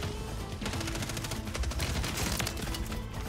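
Rapid automatic fire from a BSP Stinger SMG in Warzone, a dense, steady stream of loud, close shots with no pauses across the whole stretch.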